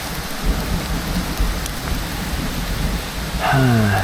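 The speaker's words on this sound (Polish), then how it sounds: "No, zaczyna padać." Steady rain falls in a forest, a dense, even hiss with low rumbles of thunder beneath it, and a brief tonal sound enters near the end.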